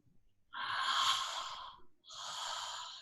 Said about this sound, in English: with the connected breath, it's an even inhale, even exhale, and it looks like this